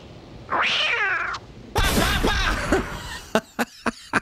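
Cat in the 1981 film Wolfen, giving a drawn-out wavering meow, then a louder harsher yowl, followed by several sharp separate bangs like gunshots or thuds, close and loud.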